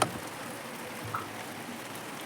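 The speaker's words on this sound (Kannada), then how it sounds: "ಮಳೆ ಬರ್ತಿದೆ ಹೊರಗಡೆ" Rain falls outside a home kitchen as a soft, even hiss that stays faint and distant throughout, with one or two faint drips or taps standing out.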